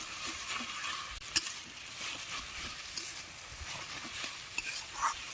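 Taro leaves stirred in a hot pan with a spatula, with close scraping strokes and occasional sharp metallic clicks over a continuous sizzle.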